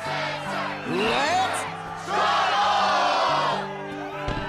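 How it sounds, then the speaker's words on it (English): In the Kingdom Hearts 2 video game, an arena crowd cheers and roars in loud swelling waves over a steady synthesized music bed, with a short lull between two surges. "the crowd is fired up, so you know what comes next"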